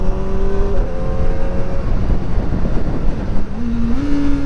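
A Kawasaki ZX-4RR motorcycle engine pulls hard at high revs, loud and close, its whine rising through quick-shifter gear changes that drop and climb the pitch, with wind noise and no talk.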